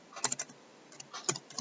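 Keys tapped on a computer keyboard while entering answer options into an online test builder, a few quick clustered clicks in two short bursts, close and fairly quiet.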